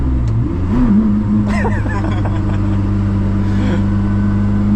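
A Koenigsegg CC850 engine holds a steady low drone that swells slightly as a little throttle is fed in, with a voice talking over it throughout.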